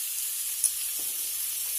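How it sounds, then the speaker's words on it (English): Jalapeno peppers and fresh garlic sauteing in a pan for Swedish meatballs, giving a steady, soft sizzle with a faint tick near the middle and no voices. "Put these fresh jalapeno peppers in there and this fresh garlic. Get all that. Saute that in there."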